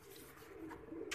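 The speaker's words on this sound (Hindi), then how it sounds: "चेक करें भजन, इस कबूतर की जान चेक करें, ये तैयार ही नहीं है।" A soft, low pigeon coo, faint and close, lasting about a second over quiet background noise.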